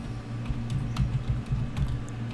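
Quick keystrokes on a computer keyboard while entering a Linux update command, a steady run of light close taps over a low electrical hum.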